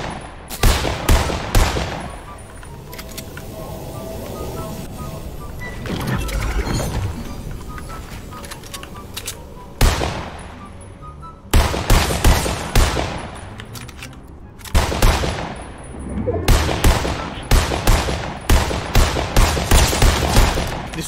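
Fortnite gunfire comes in loud bursts of rapid shots, with short volleys and single cracks spread across the stretch and quieter gaps between them.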